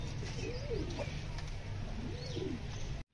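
Pigeons eating grain give soft, rolling coos, two clear phrases heard near over a constant background hum that cuts out at the very end.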